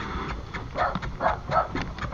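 A dog guarding its home at a third-alarm fire scene in a Quezon City neighborhood gives a few close, sharp barks and yips in quick succession amid background noise.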